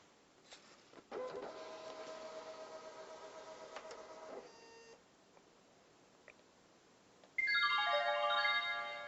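Electronic voting machine taking in a red closing card: a motorised feed whirs for a few seconds with faint ticks, then goes quiet before a loud rising electronic beep sequence near the end, close and with no talk.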